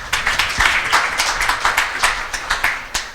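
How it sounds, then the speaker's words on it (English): An audience claps for a speaker at a talk on mobile gaming, a steady, dense applause of many hands sustained throughout without any talking over it. "Let's give her a round of applause."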